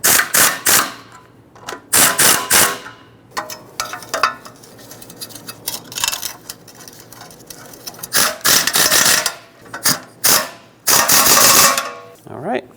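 A pneumatic air impact gun on its lowest power setting snugs exhaust manifold bolts on a 2012-2017 Toyota Camry, firing in several loud, close rattling bursts separated by pauses.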